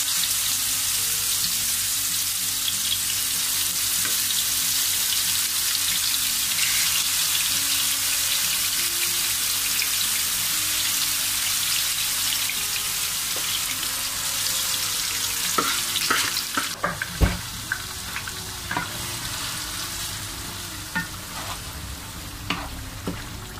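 Vegetables cook slowly in a glass of olive oil for a large batch of sofrito, giving a steady, loud frying sizzle with sharper spatters and utensil clacks in the final seconds.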